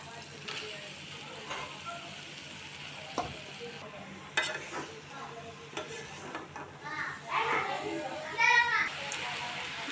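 Potato and eggplant sautéing in spiced oil, a soft sizzle with intermittent spoon scrapes and clinks, while children chatter and play in the background, growing louder toward the end.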